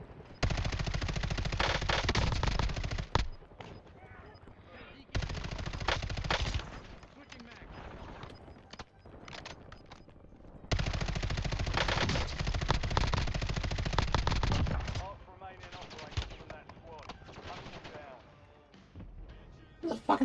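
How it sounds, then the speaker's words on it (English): Call of Duty gunfire, long bursts of rapid automatic fire alternating with quieter stretches of sparse shots and game noise, the whole sequence fairly faint and distant. "Who the fuck is firing at me?"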